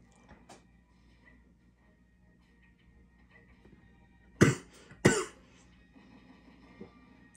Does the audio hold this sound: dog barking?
no